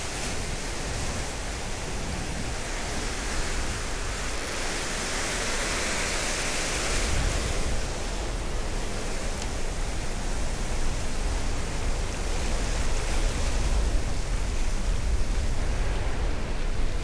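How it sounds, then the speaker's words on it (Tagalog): Strong ocean waves roar at a seaside fishing spot in a dense, continuous wash of surf that swells slightly midway. The sound is loud and steady, with no talk. "Grabe alon mga master."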